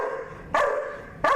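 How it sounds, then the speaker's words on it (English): A police-demonstrated dog showing dominant aggression lets out two sharp, forceful barks close to the mic, one about half a second in and another near the end. "This is a dominant aggression dog by doing that."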